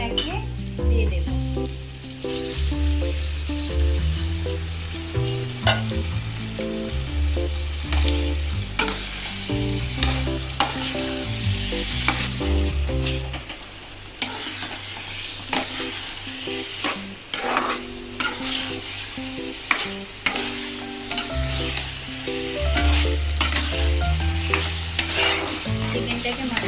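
Marinated chicken for dahi chicken frying in a spiced masala, a loud continuous sizzle with repeated stirring and scraping in the pan, strong throughout with a brief quieter dip midway.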